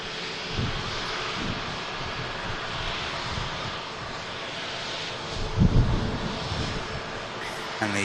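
A Ryanair airliner from Eindhoven lands at Manchester Airport, its broad, steady engine roar filling the scene with a brief louder surge near the end, while a voice talks over it.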